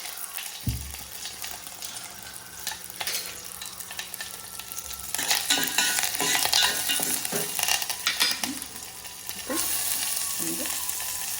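Cumin, curry leaves and garlic frying in oil in a brass pan, a continuous close sizzle that flares louder as ingredients drop in, with scraping stirs and clinks throughout.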